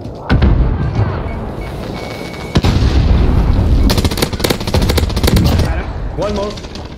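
In a video game shooter, rapid machine-gun fire and sharp blasts erupt close by, with a heavy explosion partway through and dense volleys of shots after it, while a voice talks over the racket.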